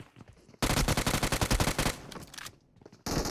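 Rapid machine gun fire from the PUBG Mobile battle royale game rattles out in a fast, loud burst of evenly spaced shots for over a second, then thins to scattered rounds before another burst starts.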